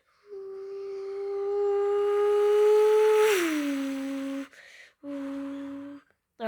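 A human voice mimics a car flying past: a steady hum climbs in loudness, then drops sharply in pitch as it passes, followed by two short, lower engine-like bursts. The imitation is alone and close.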